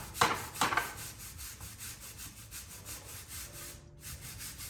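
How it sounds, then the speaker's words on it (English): A coarse nylon-bristle brush scrubs bugs off a motorcycle radiator, making soft repeated rasping strokes close up, with two louder scrapes at the start and then quieter rubbing. "I'm just going to use kind of like a coarse brush, but it's nylon bristles."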